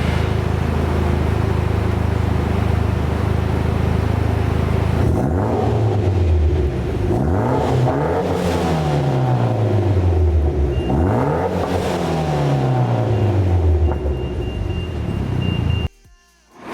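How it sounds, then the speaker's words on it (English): Mitsubishi Lancer Evolution X fitted with a Megan exhaust, idling with a deep burble then revved three times in rising and falling sweeps, close and loud, before settling back to idle and cutting off. "I'm gonna set you guys down and I'm gonna give you some revs."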